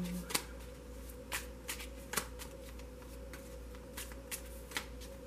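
Tarot cards shuffled and drawn in a quiet room, giving soft repeated flicks and snaps at irregular intervals over a low steady background hum.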